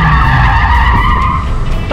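Tires of a 2023 Mazda MX-5 Red Top manual convertible squeal loudly and steadily as the rear-drive roadster drifts on a mountain road, a near, continuous skid with engine hum beneath.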